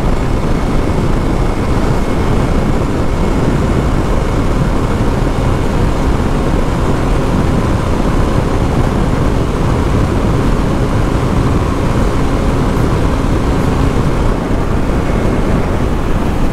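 Honda CB 300 motorcycle held in top gear near its top speed of about 158 km/h, exhaust wrapped in thermal tape, giving a steady loud engine drone with heavy wind rush and no talking.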